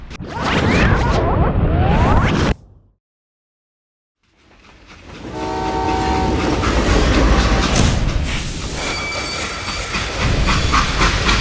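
A video game freight train rumbles and clatters along the rails with a sustained, loud mechanical roar, broken by a brief silent gap before the noise swells back in.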